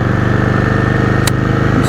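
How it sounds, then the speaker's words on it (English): A Yamaha Virago XV535 motorcycle's exhaust rumbles steadily and loudly at close range, a continuous low pulsing throb with no gaps, filling the whole moment. "it still sounds good, the exhaust."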